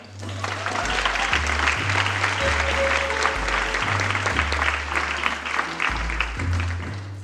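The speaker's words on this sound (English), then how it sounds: "So please join me in applauding Shana." Audience applause at a university event, steady clapping from a crowd that holds for several seconds over a pulsing low musical tone.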